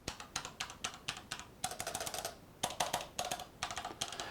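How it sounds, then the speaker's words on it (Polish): Typing on an OZONE Strike Battle Spectra mechanical keyboard with Cherry MX switches: a quick run of sharp clicky keystrokes in uneven bursts, close and clear, with no talking. "Posłuchajcie jeszcze dźwięku klawiszy."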